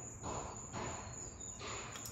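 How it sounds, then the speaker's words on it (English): Crickets chirp steadily outdoors on a July evening, a continuous high trilling that pulses in a few slow swells, faint and heard alone. "Listen to the crickets."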